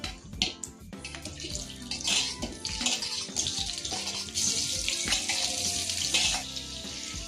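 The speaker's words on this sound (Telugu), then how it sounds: "ఆయిల్ కూడా హీట్ ఎక్కిందండి. సో ఇందులోనే నేను పొటాటోస్ అన్ని వేసేస్తున్నాను." Potatoes dropped into hot oil spiced with chili powder and turmeric, cooked for dum aloo, give a loud, steady, broad sizzle and frying hiss that runs through the whole stretch with clattering pan sounds, close up and without talk.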